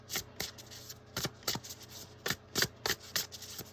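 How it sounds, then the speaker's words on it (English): Oracle cards are shuffled by hand in quick, crisp bursts of riffling and rubbing, close and fairly soft, repeating in an uneven rhythm. "These are so nice to shuffle too."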